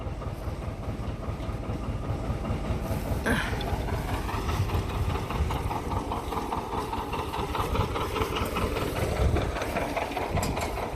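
A John Deere 1600A MoCo haybine is cranked over, its machinery giving a steady, close mechanical drone with a rhythmic rumble that holds throughout.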